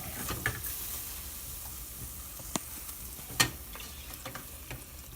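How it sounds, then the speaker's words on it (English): Mac and cheese sauce stirred in a pot as it comes back to a boil, with a continuous bubbling simmer, soft scraping strokes and a few small clicks of the utensil against the pan, close by. "And keep stirring to get lumps out, no lumps."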